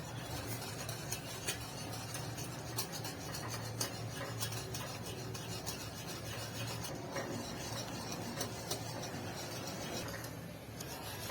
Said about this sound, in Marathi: एका हाताने हलवायचं आणि एका हाताने पीठ बारीक पसरवायचं